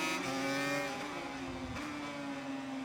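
Motorcycle engine in a Le Mans racing video game building revs under hard acceleration out of a slow corner, a loud buzzing note with rising pitch sweeps and a brief shift blip, no voices.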